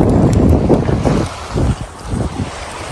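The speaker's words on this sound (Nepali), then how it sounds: "कस्तो दामी हावा चल्यो" Strong wind gusts buffet the microphone outdoors in Europe, a loud, uneven roar with rising and falling bursts and no talking.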